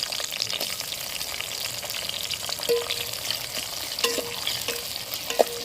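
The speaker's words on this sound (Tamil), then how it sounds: "எண்ணெயிலே வெங்காயம் தக்காளி பச்சை மிளகா கொஞ்சம் நேரம் வதங்கி வரட்டும்" Onion, tomato and green chili sautéing in oil for a kuzhambu masala, a steady close sizzle with light stirring clinks and scrapes, no voices.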